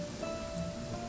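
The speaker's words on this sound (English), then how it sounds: "listen to this rain" Rain falling in the Genshin Impact video game, a soft, steady patter on surfaces with a faint tone running underneath and no voices.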